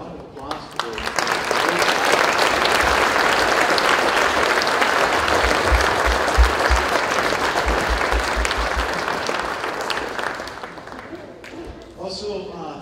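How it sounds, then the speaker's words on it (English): An audience at a service applauding the student body, a dense, sustained round of clapping that swells quickly, holds steady and loud for about ten seconds, then fades as a voice begins speaking. "Let's give our entire student body a round of applause for them."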